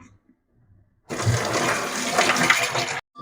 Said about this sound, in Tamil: இப்போ இது வந்து நான் கழுவி எடுத்துட்டு இது அப்படியே தண்ணியை வந்து வடிச்சு எடுத்துக்கிறேன்.